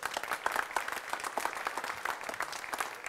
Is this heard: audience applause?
yes